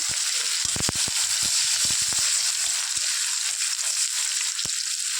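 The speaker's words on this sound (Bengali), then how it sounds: "একটু ভাজা ভাজা করে নিচ্ছি" Chopped onion fries in hot oil in a pan for Bengali tel koi, a steady bright sizzle punctuated by sharp, scattered pops and crackles, close and alone without any talking.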